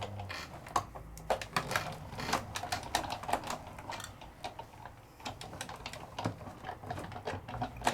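A die cutting machine pressing a die through a card front, heard as quiet, dense clicking and ratcheting over a low mechanical rumble, steady throughout without speech.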